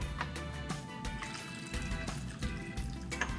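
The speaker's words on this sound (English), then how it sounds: "And then you can go ahead and pour those right in." A shaken carrot juice and rum cocktail is poured into glasses, giving a soft, continuous liquid splash and trickle with small clinks, fairly quiet and without talk.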